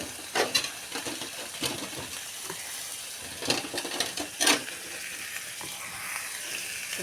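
Food frying in a pan with coriander leaves just added is stirred by hand: steady sizzle underneath, with a handful of sharp scrapes and clinks from the spoon against the pan, close by and without speech.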